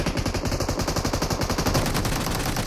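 Dense rapid automatic gunfire during a squad fight in the mobile game BGMI, loud continuous bursts with a steady rattling rhythm and no talking.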